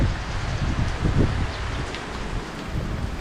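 Storm wind and rain from Typhoon Noru sweep over an outdoor spot in southern Laos, a steady broadband rush with low gusty rumbles against the microphone and no voices.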